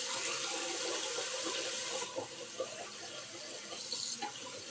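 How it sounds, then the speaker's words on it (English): Faint tap water runs into a sink as a makeup brush is wetted, a soft, steady rush that thins out halfway through into light splashes. "I am going to wet my brush."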